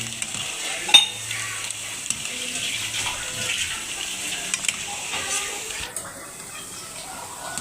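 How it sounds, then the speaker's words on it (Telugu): Small vadiyalu frying in hot oil, a faint, steady sizzle with occasional soft stirring clinks, heard close and alone. "ఇవి ఇంత చిన్నవిగా ఉంటున్నాయండి, నూనెలో వేసరికి భలే వేగుతున్నాయండి బాబు"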